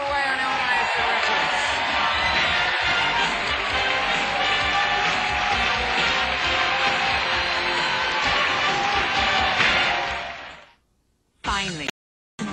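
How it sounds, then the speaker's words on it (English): Studio audience on a 1994 TV game show applauds and cheers loudly and steadily for about ten seconds, then falls silent as a short burst of sound cuts in. "Round of applause, please, for Julie."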